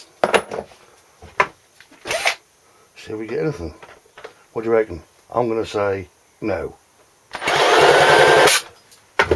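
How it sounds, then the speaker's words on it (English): People talk briefly, then a power drill spinning a Honda water pump engine whirs loudly for over a second near the end and stops. "Spin up the drill."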